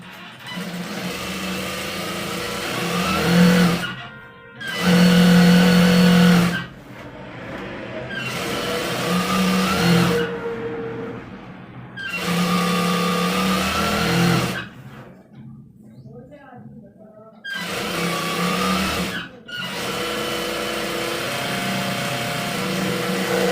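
An electric sewing machine stitches panels of an eight-piece petticoat, its motor whirring in several bursts of a few seconds each, separated by short pauses, with no talking.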